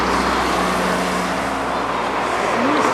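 Cars on Highway 70 near the Grantsburg County Fair produce a constant close roar of road traffic and engine noise, steady and loud with no breaks.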